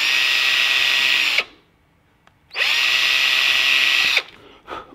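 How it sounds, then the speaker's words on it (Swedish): A power drill bores into pre-made awl holes in a wooden box lid, two loud, sustained whining bursts separated by a brief quiet pause and a short tail at the end. "Och då borrar jag i varenda hål som jag har gjort med sylen sen tidigare."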